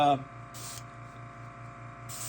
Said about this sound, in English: spray that second color to get it started